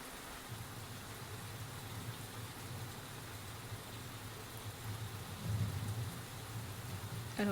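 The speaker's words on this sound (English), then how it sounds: "Okay, that's rain." Rain falls steadily as a soft, constant hiss, faint and even, with a slightly heavier patch near the end.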